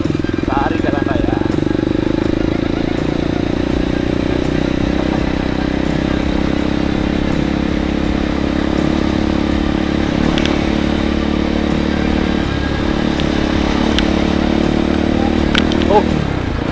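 A 2024 Kawasaki KLX 230 dual-sport motorcycle engine drones steadily and loudly while being ridden out of a residential complex, a constant close rumble with wind noise under frequent speech.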